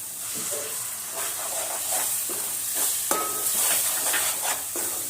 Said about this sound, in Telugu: ఈ ఉప్పు, కారము, చింతపండు గుజ్జు, టమాటాలు, ఉల్లిగడ్డ పేస్ట్ ఇదంతా మంచిగా నూనెలో ఉడకాలి